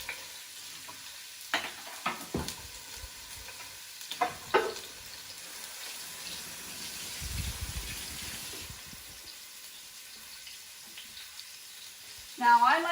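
Onions, ginger, garlic and chopped red chilies hit a preheated pot and fry with a soft sizzle, broken by utensil clatter and stirring scrapes, with a brief burst of running water at the end.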